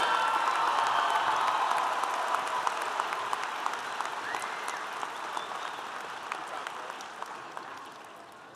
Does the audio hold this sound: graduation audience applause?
yes